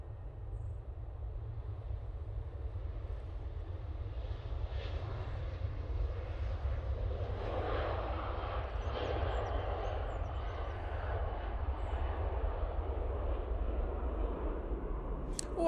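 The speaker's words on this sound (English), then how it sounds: "Ryanair now on the roll using their 737-800 with those beautiful split" A Ryanair Boeing 737-800 with split scimitar winglets takes off at Manchester Airport, a steady low jet roar that swells and holds throughout, heard from a distance with no talk.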